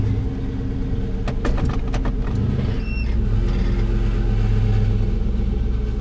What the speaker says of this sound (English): And that's the rattle, if you can hear it.